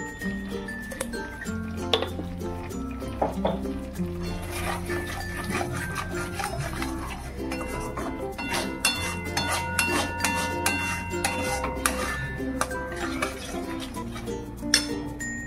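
Paneer masala stirred in a pan, with repeated metallic clinks and scrapes of a utensil against cookware over a steady background hum, irregular taps running throughout.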